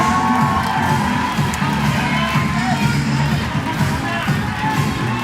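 Crowd at the Innsbruck 2024 women's boulder semi-final roaring and cheering a climber on, a steady dense wash of shouts and whoops throughout, with a commentator's voice faintly mixed in.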